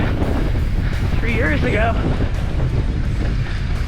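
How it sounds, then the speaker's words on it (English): Steady, loud wind roars across the microphone on a mountain bike trail in Ecuador, a constant rushing blast with a voice speaking briefly through it. "Hopefully you can hear that wind."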